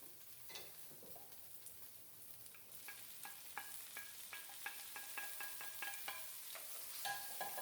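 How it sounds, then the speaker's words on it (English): Grated green seasoning sautés in a pot for Guyanese-style stewed fish, a soft steady sizzle broken by sharp intermittent clinks and scrapes of stirring, close and fairly quiet, no voices. "I'm going to let this saute around for a few minutes before I add the other green seasoning."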